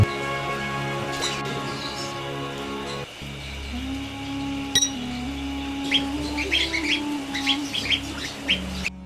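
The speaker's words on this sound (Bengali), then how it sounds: "এই বাগানে একটি চিড়িয়াখানা তৈরি করা হয়েছে যেখানে রয়েছে মাকাও কাকাতোয়া চড়ুই টিয়া সহ নানা রকম পাখি" Mixed birds in a garden aviary, including macaws, cockatoos, sparrows and parrots, chirping and squawking over a steady background hum, with bursts of sharper calls growing busier toward the end.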